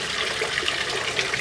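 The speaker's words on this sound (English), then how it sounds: "And there you can see the water running down through." Water runs down through a small outlet in a wall, a steady close splashing trickle with no voices.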